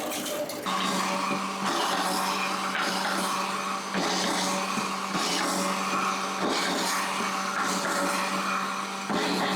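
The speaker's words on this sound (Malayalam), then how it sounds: "ആ കട്ടാക്കിയതിന് നമ്മൾ ഒന്നും കൂടെ ചെറുതാക്കാൻ വേണ്ടിയിട്ട് മെഷീനിൽ ഇട്ടിരിക്കുകയാണ്" Electric machine grinding chopped coconut pieces, a steady, loud mechanical whir with a rough, churning texture and a few brief dips as the load shifts.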